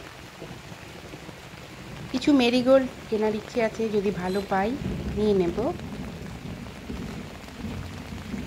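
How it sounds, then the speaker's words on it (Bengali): Steady rain falls at a plant nursery, a constant soft hiss running throughout while a person talks over it in the middle. "নার্সারিতে চলে এসেছি এখনও বৃষ্টি চলছে"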